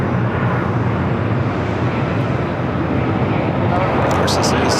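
A Southwest airliner passes at LAX, a loud, broad jet roar that holds steady and close for the whole stretch, with a few brief higher tones near the end.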